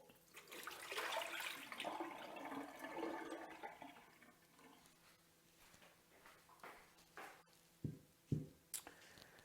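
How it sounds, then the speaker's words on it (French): Water used for sprouting sweet potatoes is poured out, gushing steadily for several seconds before thinning to trickles, followed by a few sharp knocks and splashes. "Donc, je vais jeter l'eau."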